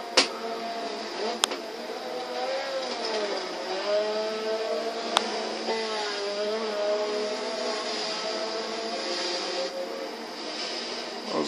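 Touring car lapping Brands Hatch in the racing game Forza Motorsport 6, a steady engine drone rising and falling through gear changes with a few sharp clicks, continuous and fairly loud with no talk.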